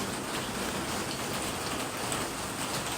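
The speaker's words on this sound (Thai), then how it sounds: "ฝนตก ทั้งคืน" Steady overnight rain falls continuously on Koh Lanta, a dense even hiss of drops pattering on surfaces with no voices.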